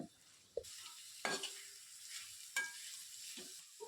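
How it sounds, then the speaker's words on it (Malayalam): Sliced onions sauté with salt in a pan, giving a soft sizzle broken by a few sharp scrapes and stirring clatters at irregular intervals, quiet and close, with no voices. "ഇതിലേക്ക് മൂന്ന് വലിയ സവാള സ്ലൈസ് ചെയ്തത് ഇട്ട് കൊടുക്കുക ഇനി അതോടൊപ്പം തന്നെ ഒരു ടീസ്പൂണിൻ്റെ മൂന്നിലൊന്ന് ഭാഗം ഉപ്പ് കൂടിയിട്ട് വഴറ്റാം"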